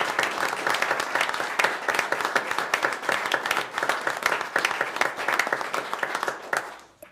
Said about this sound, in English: I'd like to ask if we could have one more round of applause for all these excellent.